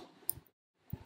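Computer keyboard typing at a Linux terminal, a few quiet, soft keystroke clicks, then a short silence, then a couple more close taps.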